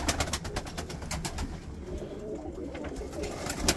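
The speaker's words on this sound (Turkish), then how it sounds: "çok değişik kuşlar var burada." Pigeons coo softly and repeatedly in a place where ornamental play pigeons are kept, their low rhythmic calls fairly faint against a noisy background, with no talking.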